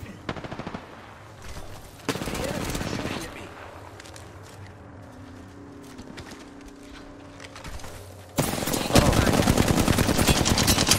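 Bursts of automatic gunfire from the Apex Legends video game, loud rapid crackling at the start, again in the middle, and a dense heavy barrage at the end, with quieter game sounds in between.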